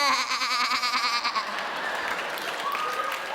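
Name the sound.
voice imitating a goat bleating as a GPS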